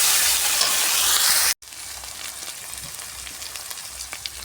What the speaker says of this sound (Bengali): বানিয়ে রাখা মশলাটা আমি দিয়ে দিলাম, ভালো করে কষিয়ে নিতে হবে